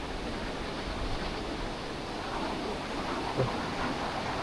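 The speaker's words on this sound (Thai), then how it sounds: "เสียงน้ำตกตัด" A waterfall at the Xe Bang Fai river cave sends up a steady, broad rushing roar of falling water, even and continuous throughout, fairly quiet and with no talk.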